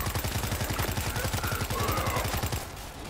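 Rapid automatic gunfire from the Zombie Zone video game shooter, a dense rattling burst of repeated shots that runs almost unbroken for about two and a half seconds before cutting off, loud and close.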